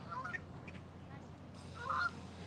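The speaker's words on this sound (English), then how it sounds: "Someone just dumped out a bunch of bread for the ducks and the geese." Geese and ducks honk over scattered bread in Boston Public Garden, with a couple of faint calls and then a louder honk near the end over quiet outdoor background.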